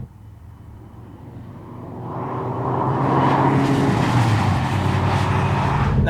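A Porsche 964 RS Touring engine warms up, starting as a low idle rumble and building into a louder, steady flat-six roar that holds near and continuous.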